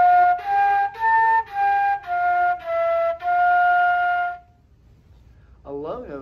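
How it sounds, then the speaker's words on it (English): A flute plays a series of sustained notes stepping through its range, each clear tone separated by short breaks, alone and close, followed by a brief voice. "The typical range of the flute sounds like this."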